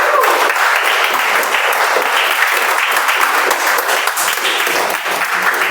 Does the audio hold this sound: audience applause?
yes